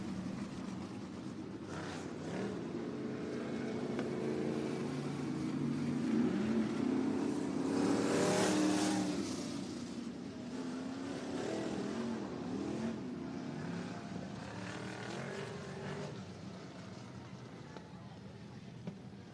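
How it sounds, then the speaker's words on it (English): Limited sprint cars roaring around the dirt oval at Cottage Grove Speedway, engines swelling and fading as they pass, with a race announcer talking over the steady engine noise. "lights are going to go out for heat race action for the limited sprints"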